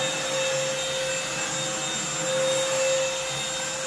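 Moosoo XL618A cordless stick vacuum running steadily on a heavy, thick carpet, a close, continuous motor whine with a bright high tone and brush hum, holding an even level throughout with no talking.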